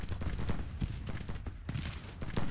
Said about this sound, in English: keep firing with the skirmishers against the artillery